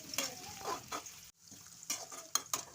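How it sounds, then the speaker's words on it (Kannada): Chopped onion frying in oil with cumin for a bitter gourd dish, heard as a soft sizzle under clinking, scraping stirs of a utensil against the pan, with a short pause midway. "ಉಳ್ಳಾಗಡ್ಡಿ ಸ್ವಲ್ಪ ಸಾಫ್ಟ್ ಆಗುವವರೆಗೂ ಫ್ರೈ ಮಾಡ್ಕೋಬೇಕು"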